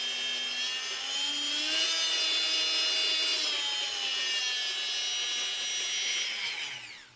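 A Bosch PMF 220 CE multifunction power tool running with no load, a steady high whine of layered tones that rises in pitch as its power is raised, then fades as it stops.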